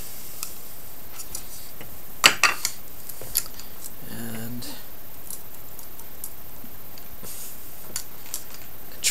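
A knife cuts silver wire wrapped on a violin bow stick during grip installation: a few sharp, close clicks and snips, separated by quiet pauses, with a brief scraping sound midway.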